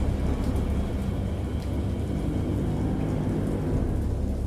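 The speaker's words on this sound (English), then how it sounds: "I heard pearls of thunder and other tones which nature utters only in her wildest moods." Heavy rain roars steadily through a video game thunderstorm, with a deep rumble of thunder running underneath and no voices.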